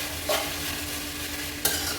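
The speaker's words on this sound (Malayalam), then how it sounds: "എണ്ണ ഒഴിച്ച് കടുകിട്ട് പൊട്ടിച്ച് രണ്ട് ഒരു മൂന്ന് നാല് ചെറിയ ഉണക്കമുളകും കീറിയിട്ട്" Mustard seeds and torn dried red chillies crackle and splutter in hot oil, a close continuous sizzle with two short sharp pops and no voices.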